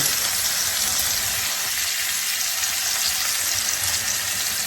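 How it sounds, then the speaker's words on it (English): Smoked meat boils hard in a pot for mustard and collard greens with oxtails, giving a steady, dense bubbling hiss that runs loud and unbroken throughout, with no voices. "Gonna let that smoked meat boil."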